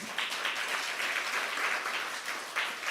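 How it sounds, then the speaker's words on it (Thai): A seated audience at a Thai company introduction event applauds itself, steady clapping from many hands filling the room at moderate volume without talk. "ขอเสียงปรบมือให้กับตัวเองด้วยค่ะ"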